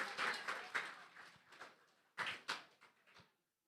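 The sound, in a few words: applause for a student at a speaking competition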